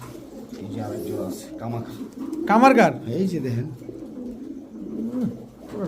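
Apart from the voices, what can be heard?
pigeons cooing: Pakistani Teddy, Damascene, Budapest, racer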